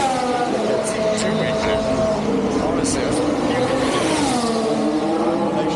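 A Formula 1 car at the Montreal Grand Prix, during a practice session, roars past at full speed, with a loud, high engine whine rising and falling across several seconds, and excited commentary running over it.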